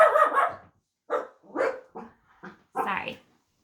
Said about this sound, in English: Sorry, that's a dog.